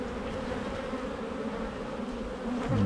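Honey bees swarm over a newly drawn comb frame during a hive inspection, a dense, steady buzz close by with no voices.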